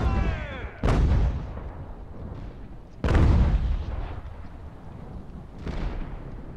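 Mortar and artillery fire booming in Ultimate General: American Revolution, a Revolutionary War strategy game at Fort Frederick, with three heavy blasts spaced a few seconds apart over a steady rumbling battle background.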